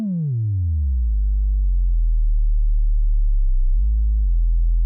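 A modular synth kick tone tuned low sounds as a smooth sine-like boom that sweeps quickly downward, then holds as a loud sustained deep hum with a brief pitch bump near the end.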